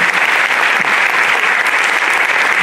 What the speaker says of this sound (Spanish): Señores, Ruth Harff, le damos el aplauso, bienvenida.